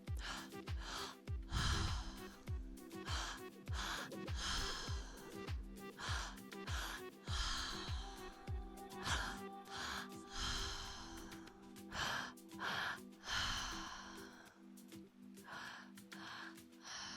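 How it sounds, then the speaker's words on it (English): Deep, deliberate breaths during a guided breathwork meditation: repeated audible inhales and forceful exhales in a steady rhythm. They are close and clear over a soft, sustained background tone. "Taking about 10 more breaths."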